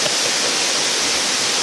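Steady roar of a waterfall at Sapang Dalaga Waterfalls, a dense, even rush of falling water heard up close and loud throughout with no break.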